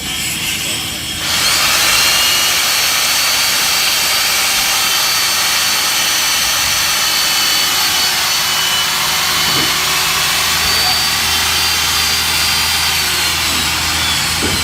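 A core drill grinds steadily and loudly into concrete from start to finish, starting after a brief pause, with a continuous high whine and faint voices underneath.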